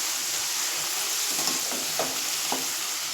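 Potato finger chips frying in hot oil on a stove set high, a steady bright sizzle throughout with a few soft stirring scrapes and bubbling pops near the middle.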